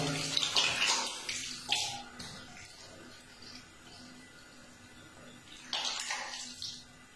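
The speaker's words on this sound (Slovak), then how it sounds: "No a už len oplachnete vodou." Water splashes at a sink as a face is rinsed after makeup removal. Quiet bursts of splashing and trickling come close by, with a pause in the middle and no talk.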